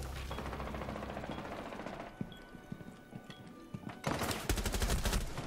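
Rapid bursts of gunfire in the tactical shooter Rainbow Six Siege, a close volley early on, quieter scattered shots and clicks in the middle, then a loud sustained burst at the end.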